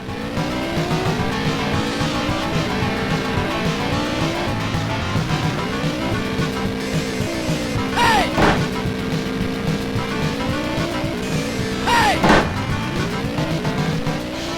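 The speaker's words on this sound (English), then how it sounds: "get a little dirt bike action going here, and you're going to be hitting the dirt and getting muddy as you ride your dirt bike" Dirt bike racing in a Sega 32X video game, with buzzing motorbike engine tones rising and falling through gear changes, plus periodic louder bursts as bikes rev, heard as a continuous game soundtrack with commentary voice underneath.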